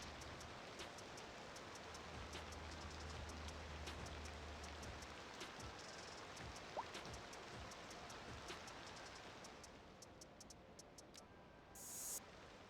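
Steady rain hisses across the whole stretch in Cities Skylines 2, a dense, even wash of falling drops at moderate level, with faint clicks and a brief brighter burst near the end.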